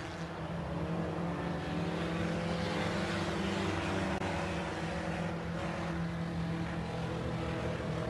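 A sport compact race car drives down the backstretch of the track, its engine a steady, distant drone heard through the whole stretch, alone without talk.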